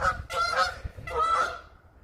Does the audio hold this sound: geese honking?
yes